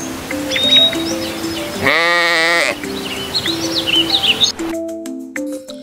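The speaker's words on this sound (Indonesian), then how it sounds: "Sheep." One loud, wavering sheep bleat rises in the middle of the clip over soft chirping birds and light background music.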